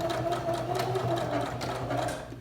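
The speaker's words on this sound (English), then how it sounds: "I'm gonna do a little back stitch just to make sure it's in there" Sewing machine stitching a fabric card wallet, running steadily with a continuous close whir and a brief back-stitch, slowing at the end.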